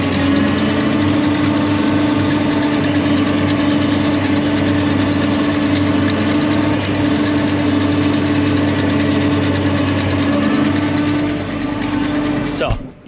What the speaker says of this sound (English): So I'm just topping the paddock here now.